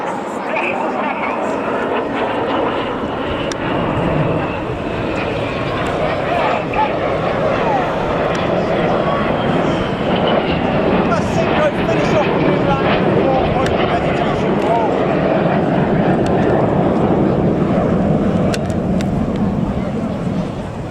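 Aerobatic display jets fly in formation at the Armed Forces Day airshow in Falmouth, Cornwall, giving a steady, loud, sustained engine roar throughout, with a commentator talking over it.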